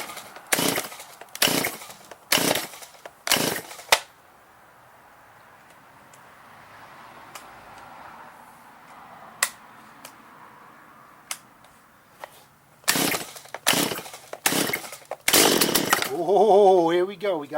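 A STIHL MS170 chainsaw that has sat unused since last season is pull-started, with repeated sharp rope pulls in two bursts separated by a quiet stretch, then the engine sputters into a brief rough run.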